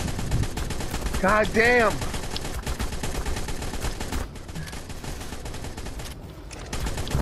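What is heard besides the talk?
gunfire in video game Ark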